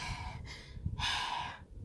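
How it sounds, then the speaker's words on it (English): A person out of breath draws two heavy, close breaths, a rasping inhale followed by a longer, stronger exhale, with no talking. "all of a sudden, I was just breathing really hard"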